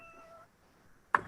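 A cat gives a short, sharp meow that bursts in near the end of a quiet moment, close and fairly loud after a faint tonal whine.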